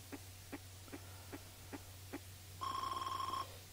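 A telephone rings in a short run of six evenly spaced chirping tones, followed by a longer, louder buzzing trill over a steady low hum.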